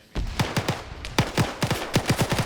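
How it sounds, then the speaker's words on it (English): Rapid gunfire in the Arma video game during a large multiplayer PvP battle crackles in close, sharp bursts of repeated shots, loud and steady, with no talk over it. "Multiple gunshots to the back of the head."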